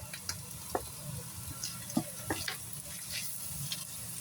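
Onions sizzling and frying in a pan with crushed ginger and garlic, a steady crackle with stirring scrapes and occasional louder pops, close and without talk.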